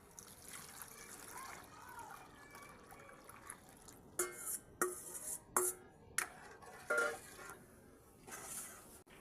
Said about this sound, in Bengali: এবারে দুধটা আমি ঢেলে দিচ্ছি।